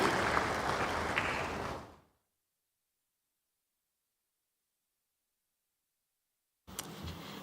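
Conference audience at a high-level anti-corruption conference in Ghana clapping, a dense wash of applause that fades out after about two seconds into silence before faint room noise returns at the end.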